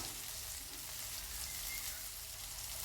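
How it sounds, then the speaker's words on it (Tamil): Turkey berries and garlic sautéing in a pan over a low flame, heard as a quiet, steady sizzling hiss without pauses or talk. "அதையும் ஒன்றா சேர்த்து வதக்கி விடுங்க."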